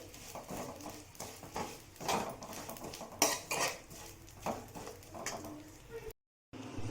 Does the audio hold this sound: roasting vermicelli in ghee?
yes